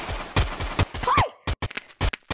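Rapid gunfire in a video game, a quick burst of loud, close shots in a dense cluster followed by several more separate cracks, with a brief voice exclaiming in the middle.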